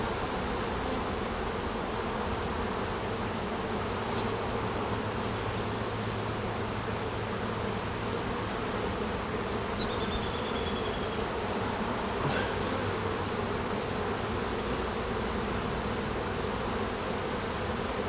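Honeybees droning steadily around an open hive during a colony inspection, a dense continuous buzz with a few individual bees passing close by.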